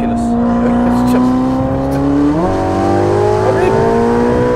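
A Ferrari Speciale sports car engine pulls steadily under acceleration from inside the cabin, a loud continuous drone rising in pitch with a brief shift partway, under faint background noise.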